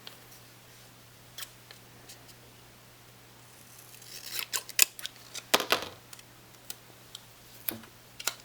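Scissors cut paper planner stickers up close, with a series of crisp, sparse snips and clicks that grow busier midway and then trail off into isolated cuts over quiet background.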